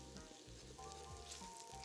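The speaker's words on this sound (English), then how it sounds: "Let this sizzle for a couple minutes or until the garlic starts to go slightly golden brown on the outside." Garlic, rosemary and a bay leaf sizzle in olive oil for a vegetable soup, giving a steady, quiet crackling fry close up.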